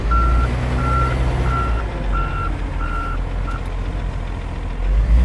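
Steady, evenly spaced reversing beeps from a wheel loader, six pulses over a continuous low engine rumble, loud and close with no talking.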